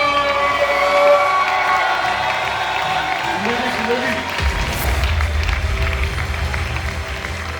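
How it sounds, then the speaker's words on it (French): A crowd at a dance competition final applauds and cheers the announced winner, loud and sustained, mixed with music and a voice speaking over it. "On l'applaudit encore, on l'applaudit"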